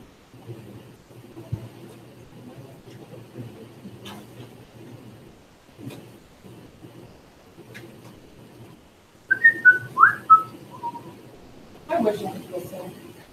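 Someone whistles a short, wavering melody of a few notes near the end, faint and close, after quiet mumbled talk and soft background noise.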